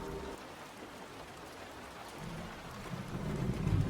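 Steady rain falls in a dense, even wash, with a low rumble swelling near the end as the downpour grows heavier.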